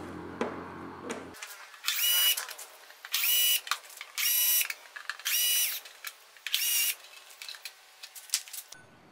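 A power drill runs in five short, even bursts, backing out the six windscreen screws on a Yamaha FZ1 motorcycle, three on each side. It is close and loud, with brief pauses between the screws and no talking.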